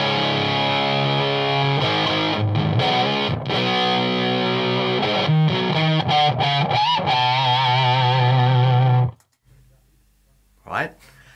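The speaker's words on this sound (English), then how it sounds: "Here is the Big Muff into the Marshall." Electric guitar through a Big Muff fuzz pedal into a Marshall amplifier, a thick sustained fuzz with several chord changes and choppy strums over nine seconds, then stopping abruptly, leaving near silence and a brief quiet noise.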